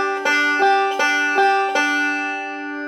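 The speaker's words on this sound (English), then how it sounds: "your thumb play the fifth string and your middle finger play the first string" Bright banjo notes plucked one at a time, about five evenly spaced picks alternating between thumb on the fifth string and middle finger on the first string, ringing out and fading at the end.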